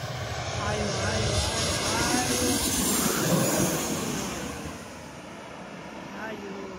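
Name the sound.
large airplane passing close, Itami Airport Osaka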